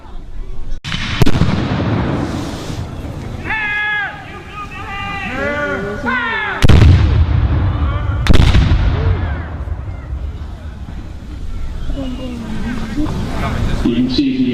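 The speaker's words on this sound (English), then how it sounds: "You can see the artillery pieces for the mountain howitzer and the lighter guns basically are loaded and fired in the same manner." A historical mountain howitzer and lighter artillery pieces fire during a gun-crew demonstration, producing three loud sharp booms that fade out, with people talking between the shots.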